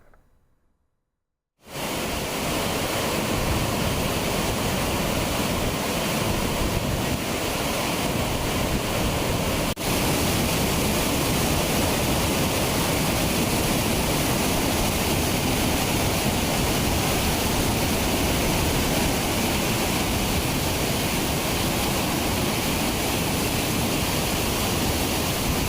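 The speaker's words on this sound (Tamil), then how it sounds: "செம்பரம்பாக்கம் ஏரியில் இருந்து 6000 கன அடி தண்ணீர் வெளியேற்றப்பட்டு வருகிறது" Floodwater pours out of Chembarambakkam lake near Chennai at 6000 cubic feet, released during heavy rain. After a brief quiet moment, a loud, steady, broadband roar of rushing water continues unbroken.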